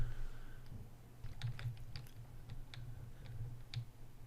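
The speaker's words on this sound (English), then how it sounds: "So I'm going to start typing this in, and I will not force you to watch me type." Code being typed on a computer keyboard during a Python lesson, a quiet, irregular run of close key clicks over a low steady hum, with no talk.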